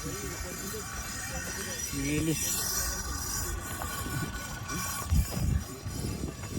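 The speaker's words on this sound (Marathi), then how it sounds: "गाड़ी से आवाज़ ट्रेन जैसा क्यों आ रहा है" A vehicle engine on a trek route in Maharashtra, giving off a rumbling, train-like drone with squealing tonal whines that rise and fall, a louder burst near the end, amid crowd noise.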